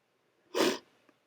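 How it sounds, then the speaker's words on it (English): Sniffle from someone with seasonal allergies, a single sharp nasal burst lasting about a quarter second, close and moderately loud, followed by a faint small snuffle in a quiet room. "I apologize for the sniffling, it's allergy season"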